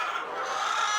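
Dense, continuous clucking from many chickens housed together in a poultry farm block of about 3,000 birds, a brief overlapping chorus with no talking.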